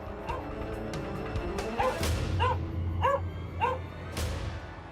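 A German Shepherd police dog barks and yelps in several sharp close bursts near a car, with a whimper and a clatter beneath.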